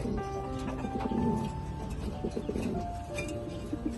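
Racing pigeons in a loft coo nonstop, layered low throaty calls overlapping from several birds close by, with faint chirps in between.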